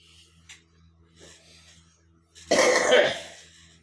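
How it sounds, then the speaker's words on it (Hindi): An elderly hakeem coughs and clears his throat in one loud, harsh burst lasting about a second, preceded by a few faint breaths and small rustles in a quiet room. "तबीब को खांसी आ गई है"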